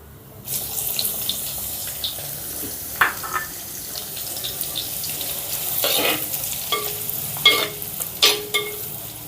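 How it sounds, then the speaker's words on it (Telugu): Finely chopped onions frying in oil with cumin and curry leaves, a constant crackling sizzle broken by several scraping stirs and clinks of a spoon against the pan, near and fairly loud, without speech. "ఇప్పుడు ఈ ఉల్లిపాయల్ని లేత గోల్డ్ కలర్ వచ్చేంత వరకు ఫ్రై చేసుకుందాం"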